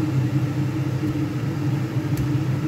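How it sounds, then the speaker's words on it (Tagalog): Kitchen exhaust fan running, a loud steady hum and whirring drone with a low rumble, constant and close with no talking. "maingay ang exhaust fan natin"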